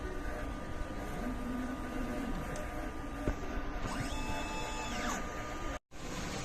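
An inkjet printer runs a nozzle check after a head clean, giving a steady mechanical whir and hum throughout with faint carriage sweeps and a brief cut near the end, and no talking.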